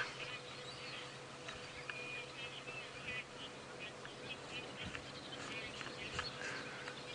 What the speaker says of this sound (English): A lot of Egyptian geese.